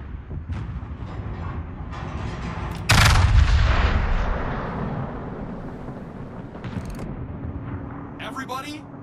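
Main guns of the battleship Vermont in World of Warships firing a heavy salvo, one loud booming blast with a long rumbling decay, over continuous ship engine noise, with a player talking.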